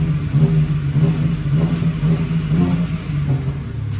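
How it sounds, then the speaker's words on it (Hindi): A BMW M4 Competition revving in M2 mode, a deep rumbling exhaust note rising and falling in repeated rev pulses, loud and close, with no voices. "अभी मैं आप लोगों को M2 में इसका एग्जैक्टली एग्जॉस्ट नोट कैसा हुआ मैं सुनाता हूँ"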